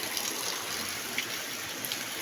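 Cold drinking water runs steadily from an unfiltered tap or spring in Tabaco City, Albay, giving a continuous soft hiss and trickle at close range with no one speaking.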